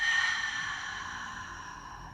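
A long, steady exhalation during an intermediate Pilates foam roller workout, a soft breathy hiss starting strongest and slowly tapering over about two seconds, close and alone with no talking.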